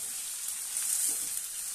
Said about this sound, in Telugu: ఆనియన్స్ వేగాయి కదా, కొంచెం వేగితే చాలు, ఎక్కువ వేగక్కర్లేదు